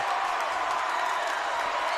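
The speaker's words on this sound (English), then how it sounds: "The stands are going crazy" A high school basketball crowd roars in the stands during a Paul VI versus DeMatha game, a dense, loud, unbroken wash of cheering and noise with no distinct individual claps.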